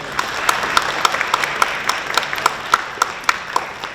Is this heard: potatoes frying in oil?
no